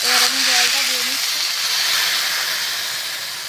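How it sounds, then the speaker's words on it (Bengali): Water is poured into a hot pan of taro and fish curry, raising a loud, broad sizzling hiss that swells and then slowly settles; a voice is briefly heard at the start. "এবার আমি জলটা দিয়ে নিচ্ছি।"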